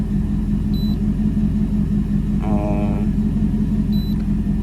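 A car engine idles steadily while warming up, a constant low rumble throughout with a brief tonal whine midway and faint high electronic beeps near the start and end.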